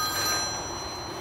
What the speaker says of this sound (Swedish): Och nu ringer Rille också.